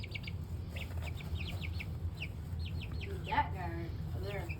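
Young chicks about three and a half weeks old, feather-footed, cheep and cluck softly in repeated short chirps over steady low background noise, with a brief louder call near the end.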